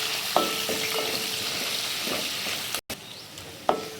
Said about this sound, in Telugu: ఉల్లిపాయలు కూడా బాగా వేగాలి.